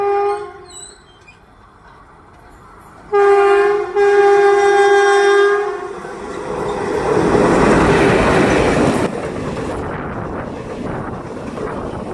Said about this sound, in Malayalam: അടുത്തതായി ഇതാ വന്നുകൊണ്ടിരിക്കുന്നത് നമ്മുടെ തൃശ്ശൂർ കണ്ണൂർ എക്സ്പ്രസ് ആണ്